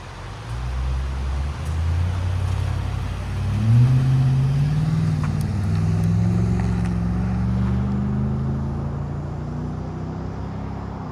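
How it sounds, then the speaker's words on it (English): A 2018 Nissan Armada's 5.6-liter V8 rumbles steadily through a Borla Pro XS muffler with the rear resonator left on, its deep exhaust tone swelling briefly as the engine revs, loud and close throughout with no one speaking. "Nissan Armada muffler swap. Basically did a Borla Pro XS,"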